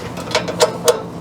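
Socket ratchet turning on a water heater thermostat nut, three quick clicking strokes close up against a quiet background.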